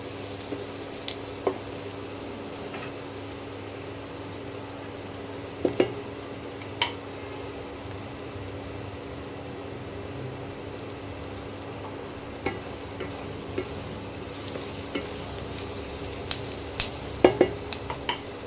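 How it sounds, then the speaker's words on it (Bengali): Kashmiri chili powder frying in oil, a steady soft sizzle with occasional faint clicks and scrapes of stirring, fairly quiet and continuous throughout. "তেলের মধ্যে লঙ্কাটা ভেজে নিলে, কাশ্মীরি লঙ্কা গুঁড়োটা ভেজে নিলে রঙটা খুব সুন্দর আসে"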